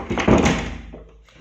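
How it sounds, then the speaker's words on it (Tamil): A door is pushed shut indoors with a single dull thud followed by a brief fading rattle, close and moderately loud, no talking. "ஃபஸ்ட் நம்ம இந்த கதவை மூடிக்கலாம்."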